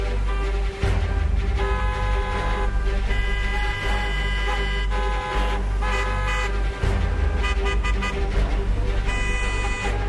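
Vehicle horns honk repeatedly in dense Delhi traffic, loud overlapping toots and longer blasts over a constant rumble of engines, with short gaps between bursts.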